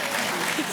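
Brief applause from the audience at a 2023 GSA construction awards ceremony, a short wash of clapping under a speaking voice.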